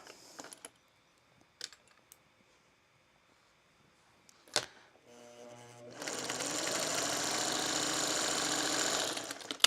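A freshly oiled and rethreaded sewing machine stitches a foundation paper pieced 'Road Trip' kit. After a few scattered clicks and handling taps, it settles into a steady, close whirring run.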